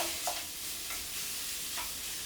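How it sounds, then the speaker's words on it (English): Steady sizzling of sausage frying in a pan without added fat, with occasional scrapes of a utensil stirring the pieces. "I'm frying it a bit like I'm frying minced beef."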